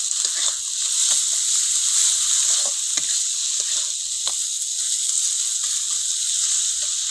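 Chili powder and roasted cumin-coriander powder being stirred and fried in a pan, a steady close sizzle with soft scraping strokes of the spatula throughout.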